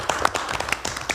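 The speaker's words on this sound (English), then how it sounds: "I'd like to give a round of applause." Brief scattered clapping at a city council meeting, a few hands patting irregularly, fairly faint and close.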